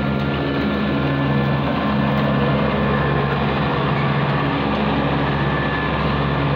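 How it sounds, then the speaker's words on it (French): A tractor's engine drones steadily as it approaches, a loud constant low rumble with no pauses. "un tracteur qui arrive"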